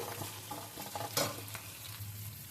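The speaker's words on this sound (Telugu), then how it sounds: "ఇవి వేగుతూ ఉన్నప్పుడు కరివేపాకు వేసుకోవాలి" Onions and curry leaves fry in a pan with a soft, steady sizzle and a few brief scrapes of stirring, up close and fairly quiet.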